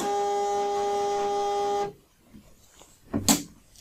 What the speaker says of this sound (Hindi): अब जो स्टिकर प्रिंट होगा